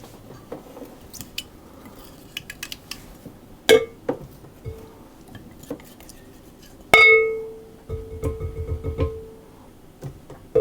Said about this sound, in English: I'm going to mix those to get those distributed.